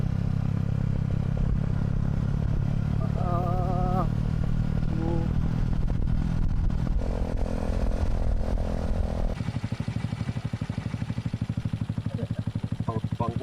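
A motorcycle engine runs steadily nearby at an outdoor campsite during a fiesta, with a brief clatter and a drop in level partway through, and people's voices faintly in the background.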